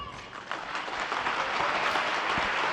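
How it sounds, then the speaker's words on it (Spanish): Applause from a large crowd at Pope Francis's Wednesday general audience, a dense continuous wash of clapping that swells slightly after the first half second and holds steady. "Aplausos para este resumen de la catequesis del Papa Francisco"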